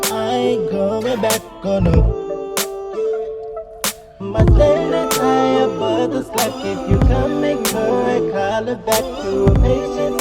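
A rapper's track plays loud and up front: sung and rapped vocals ride over a beat of sparse, punchy drum hits and sustained synth tones.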